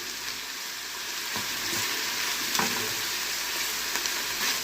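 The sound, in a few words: stirring spiced minced meat in a frying pan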